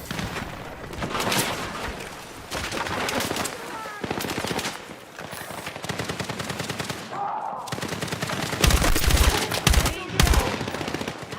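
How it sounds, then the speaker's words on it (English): Gunfire in the military shooter Battlefield 6: rapid machine-gun bursts and single shots rattle loudly and almost continuously, with a few brief pauses, while characters and players shout and talk over the shooting. "Who's shooting me?"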